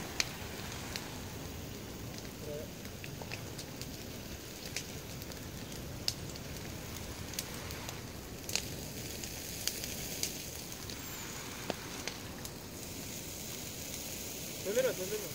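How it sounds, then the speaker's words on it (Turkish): A fire of cherry tree wood burns with a quiet, steady crackle and hiss, broken by scattered sharp pops and snaps spaced a few seconds apart. "kiraz ağacını yapıyorlar, tutuyorum. Ateş mi sıcak oluyor?"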